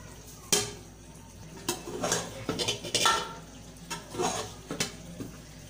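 Matar pulao biryani is served from the pot onto a dish, a spoon scraping and clinking against metal in a series of close, irregular knocks and scoops.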